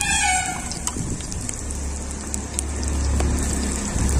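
Finely chopped onions hit hot oil already fried with cloves, fennel and cinnamon for a prawn curry, giving a loud, close, steady crackling sizzle throughout.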